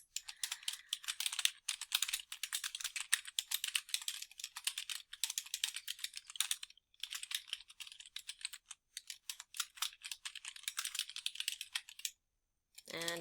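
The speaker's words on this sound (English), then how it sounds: "And this is where I'll be typing the inside address, so Mr. Andres Macias." Rapid, continuous keystrokes on a computer keyboard while an inside address is entered into a business letter. The clicking is close and steady, broken by brief pauses, and a short voice enters at the very end.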